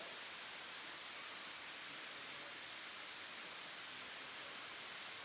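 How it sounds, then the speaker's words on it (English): Kondalilla Waterfall pours in a steady, dense broadband rush, constant and unbroken with no voices, like close falling water. "What a fantastic waterfall."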